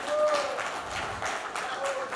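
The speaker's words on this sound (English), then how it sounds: "Give him a good applause." Audience applause at a cannabis industry expo panel for the session moderator, a short burst of dense clapping from a seated crowd, steady and fairly loud throughout.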